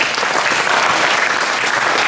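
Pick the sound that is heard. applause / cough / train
applause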